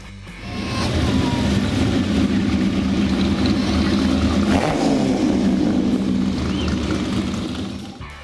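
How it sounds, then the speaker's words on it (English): A dozen or so Ferrari 250 Testarossa cars parade past at Monterey Car Week, a loud, sustained blend of rumbling engines rising and lingering for several seconds, swelling near the middle, with no talk. "There was about a dozen or so Ferrari 250 Testarossas, which I was lucky enough to capture them parading at the end of the show."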